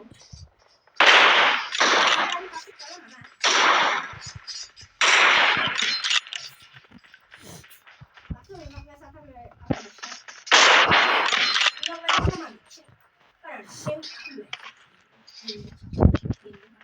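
Video game gunfire crackles in loud bursts of rapid shots separated by short pauses, close and sharp, with people talking and shouting between and over the shooting.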